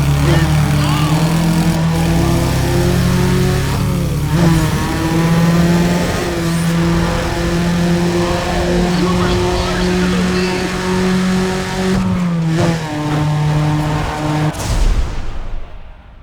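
A race car engine in the NFS ProStreet racing game, revving loudly and steadily with a droning, shifting pitch and brief dips between gears, close up, then cutting off abruptly at the end.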